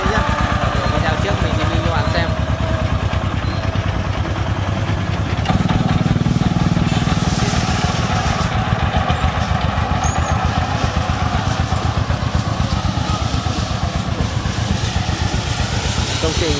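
Vietnamese công nông farm truck carrying sand and steel at a construction site, its single-cylinder engine chugging loudly and continuously at close range, with a rapid steady knocking rhythm and a brief rise in revs midway.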